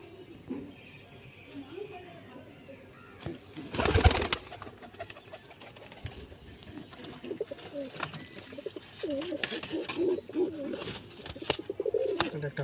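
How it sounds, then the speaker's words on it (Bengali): Jiriya Madras pigeons, including a white Jiriya Madras female, give soft, repeated coos close by, building toward the end, with a loud rustling bump partway through and a faint murmur beneath. "আরও অনেক পায়রা আছে যেগুলো ছাড়া আছে।"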